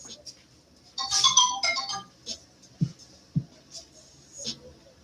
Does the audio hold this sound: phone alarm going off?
yes